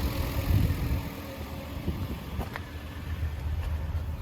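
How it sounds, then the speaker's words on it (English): A Toyota Land Cruiser 80 engine idles while warming up, giving a steady, low, even rumble that holds at a moderate level throughout. "The engine is still slowly warming up and it continues to drop."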